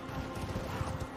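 A horse in the Elden Ring video game gallops in a brief burst of rapid, muffled hoofbeats, low and fairly quiet.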